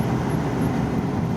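Truck engines on a high mountain road in Peru, heard from a vehicle stuck behind them: a steady, low rumbling drone with road noise throughout, no distinct events.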